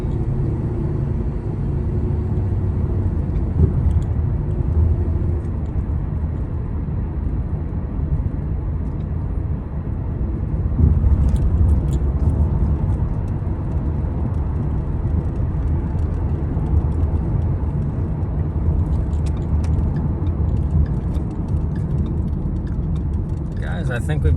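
A car fitted with a cheap used transmission drives down the road, giving a steady low engine and road rumble from inside the cabin with faint ticking, while people talk over it.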